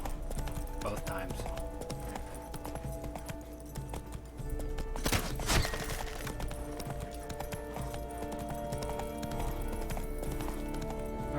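Rapid, rhythmic hoofbeats of a horse galloping in The Witcher 3: Blood and Wine, continuous across the clip with a brief burst of noise midway, while a person talks over the game sound.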